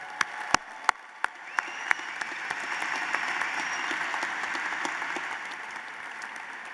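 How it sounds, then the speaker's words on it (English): Graduation audience at a Georgia Tech bachelor's commencement breaks into applause, starting with a few sharp separate claps that swell into sustained, dense clapping from a large crowd in a big hall. "give your parents, your families, and the friends who are here today a big round of applause"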